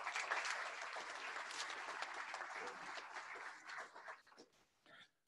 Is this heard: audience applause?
yes